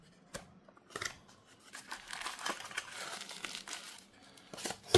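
Plastic cover on a headphone box for in-ear monitors crinkling and tearing as it is handled, with quiet, close, irregular bursts of crackling and rustling and no speech.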